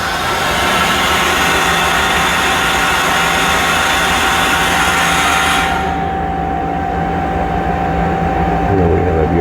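A Mazak Smooth G CNC mill, its spindle turning around 2,500 RPM, cuts an inside square and chamfer with a loud, steady, dense machining roar that continues without a break and turns duller partway through.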